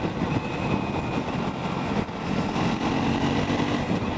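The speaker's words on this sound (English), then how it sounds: "I'm rather enjoying that rasp of the exhaust" A Triumph Scrambler 400 X motorcycle on the move gives a continuous raspy exhaust drone mixed with road and wind rumble, steady and moderately loud throughout.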